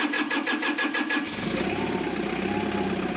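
An F-4 Phantom engine cranks with a rhythmic churning for about a second, then catches and settles into a steady loud roar after starting fluid was used on a cold morning.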